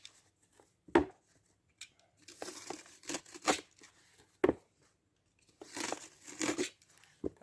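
A cutter slices through a pool cartridge filter in bursts of crisp tearing, crunching cuts with short pauses between strokes, close and fairly loud, and no talk.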